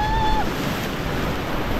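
River rapids on the Ganges at Rishikesh roar around a rafting boat in a loud, continuous broadband rush of churning water, with no voices heard.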